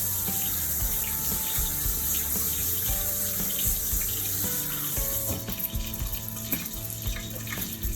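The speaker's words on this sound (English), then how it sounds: "Wash my hands up a little bit." Tap water runs steadily into a kitchen sink as hands are washed, a close, constant splashing hiss with small clinks and shifts in the stream partway through, no voices.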